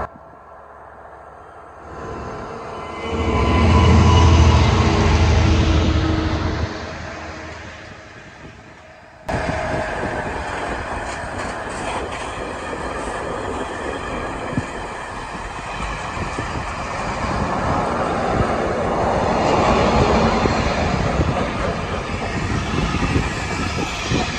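A heavy Class 66 diesel locomotive rumbles up loudly, then a long train of freight wagons rattles and clatters steadily past nearby for many seconds.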